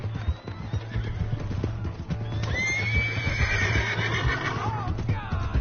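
A horse in the Red Dead Redemption 2 video game whinnies loudly in a long, rising and falling neigh over steady hoof clip-clops and busy game background sound.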